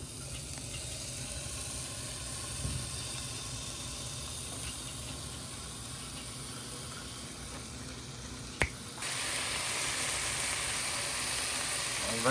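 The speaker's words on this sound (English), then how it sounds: "Listen to the bacon sizzle." Bacon sizzles steadily in a frying pan, a continuous hiss that holds fairly faint until a sharp click near the end, after which the frying grows brighter and louder.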